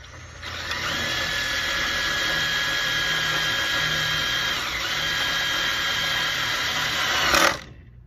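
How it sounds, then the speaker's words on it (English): A power drill whines steadily as it drives a self-drilling screw into metal, a close, continuous high pitch that cuts off abruptly at the end. "And this will drill the hole and put the screw in at the same time."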